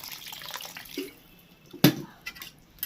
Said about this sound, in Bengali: এবার দিয়ে দিচ্ছি জল একটু ঝোল ঝোল ভালোই লাগে খেতে